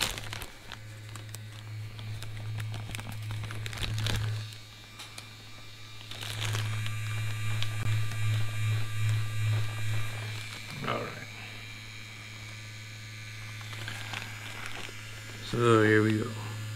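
An Ambition Torpedo tattoo machine set to 7 volts for lining runs with a steady close electric buzz and hum throughout, with a few louder clicks and handling bursts along the way.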